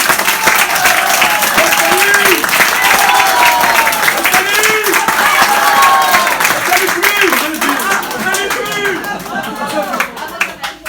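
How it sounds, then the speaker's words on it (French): A crowd applauds steadily for several seconds, a dense wash of clapping with voices and cheers mixed in, tapering slightly toward the end. "Et puis vous applaudissez avec le cœur."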